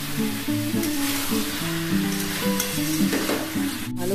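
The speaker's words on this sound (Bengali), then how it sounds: "এবার এঁচড়গুলো দিয়ে কষিয়ে নেব।" Jackfruit cooking in a pan with yogurt, a steady sizzle and frying hiss with stirring scrapes, under background music with no talk.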